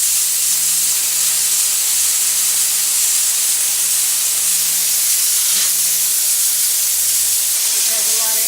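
Compressed air hissing steadily out of an old air tank being emptied for recycling, a loud, continuous broadband rush with a faint low hum beneath that stops near the end.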